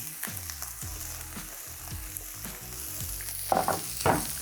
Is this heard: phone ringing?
no